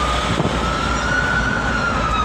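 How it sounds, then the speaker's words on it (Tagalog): A steady, wailing fire truck siren holds a single pitch over a dense roar of city traffic, fairly loud and continuous throughout. "fire truck na naman yan"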